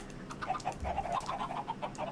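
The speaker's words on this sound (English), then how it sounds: "I want to move these chickens. They're too loud." Chickens cluck in the video game Minecraft, a quick run of short, soft, pitched clucks repeating in an uneven rhythm over a quiet background, with no voices.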